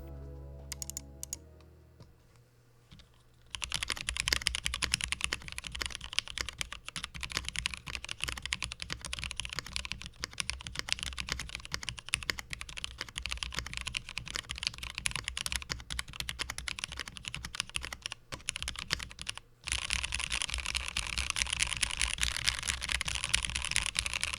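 Steady, continuous typing on a keyboard with GMK Blue Samurai ABS keycaps, dense clacky keystrokes, fairly bright and higher pitched, running throughout with a brief pause near the end.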